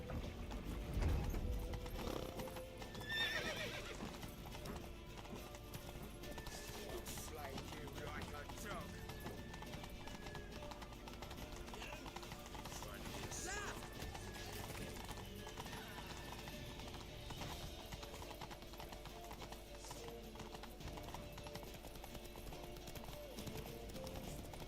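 Rapid hoofbeats of a galloping horse in The Witcher 3: Wild Hunt pound steadily throughout, with a brief whinny near the start and shouting voices over the top.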